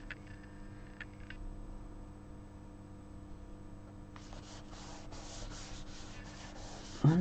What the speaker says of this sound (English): Burnish that just a little bit more.